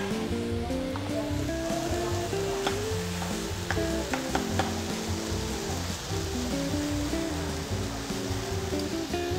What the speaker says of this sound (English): lightly toss it in the wok for a minute or two